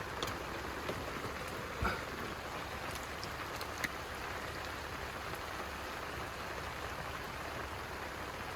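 Steady rain falls at a campsite, an even soft hiss of drops with a few faint louder taps, continuous and calm with no voices.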